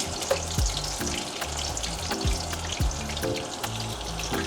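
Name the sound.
onion frying in coconut oil and soya oil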